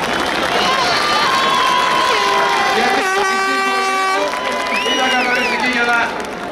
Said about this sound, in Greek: του αξίζει ένα θερμό χειροκρότημα